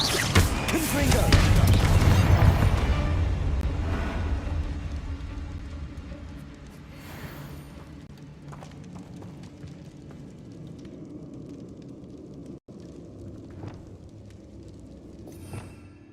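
In Hogwarts Legacy, Bombarda and Confringo spells burst with a loud, rumbling blast that slowly fades into a quieter crackling tail, with a voice heard alongside.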